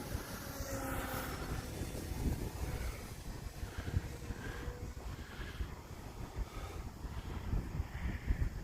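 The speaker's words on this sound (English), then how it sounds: "The wind is blowing hard." Strong outdoor wind buffets the microphone in a steady, rough low roar that persists throughout with gusty fluctuations, no voices.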